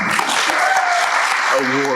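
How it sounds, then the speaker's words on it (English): Brief applause from the audience at a school board of education meeting in Asbury Park for award recipients, steady and moderately loud, with a voice starting up over it near the end. "I just think that we should give a round of applause to all the award"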